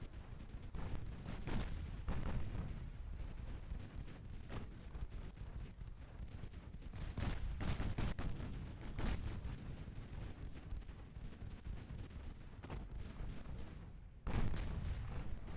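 Battleship secondary guns fire in a naval battle in Ultimate Admiral Dreadnoughts, a dense, continuous barrage of overlapping booms and rumbling blasts that stays loud throughout, with a brief lull near the end before the firing resumes.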